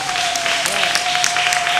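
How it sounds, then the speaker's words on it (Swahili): A church congregation in Tanga claps steadily for Jesus after worship singing, a dense even wash of applause with a faint sustained tone underneath. "Hebu tumpe tena Yesu makofi kwa ajili ya uimbaji."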